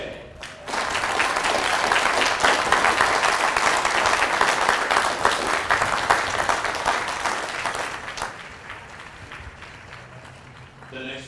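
At a Marine Corps recruit graduation ceremony in San Diego, a large outdoor crowd breaks into sustained applause that swells quickly, holds loud for several seconds, then tapers off as a voice begins speaking.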